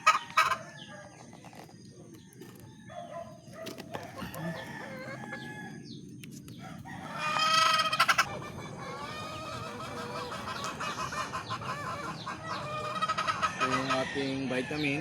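Chickens cluck and squawk nearby, with a rooster crowing and scattered bird calls over a steady farmyard background, fairly faint overall.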